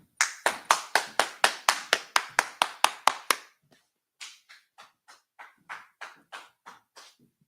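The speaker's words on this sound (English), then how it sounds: "All right, clap it up." A small group claps in a quick steady burst of about fifteen sharp claps, then after a short gap a looser, quieter round of scattered claps follows, close by and with no talking.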